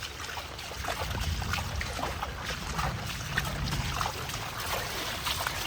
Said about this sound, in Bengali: এই যে ড্রেন দিয়ে আস্তে আস্তে পানি যাইতেছে